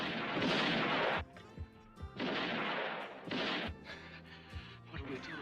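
Gunfire rings out during a film shootout, with loud bursts of shots separated by brief pauses and scattered single cracks.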